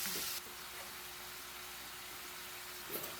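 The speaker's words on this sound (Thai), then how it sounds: "เราจะผัดแค่พอเนื้อตึงๆนะครับ" Pork neck and chili stir-fried in a pan give a steady, moderately quiet sizzling hiss, with a brief scrape at the start and again near the end.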